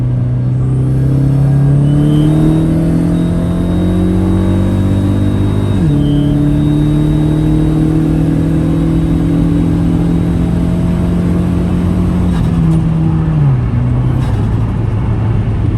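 A car accelerates hard from inside the cabin, the engine note climbing steadily through second gear before a clear shift drop into third, then pulling on and easing near the end.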